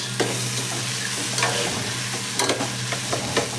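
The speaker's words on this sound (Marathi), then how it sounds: "मटकी देखील आपण या वाटणामध्ये छान अशी परतून घ्यायची आहे" Moth beans (matki) being sautéed in a ground masala paste, a constant close sizzle with scattered soft stirring scrapes and clinks, with no talking.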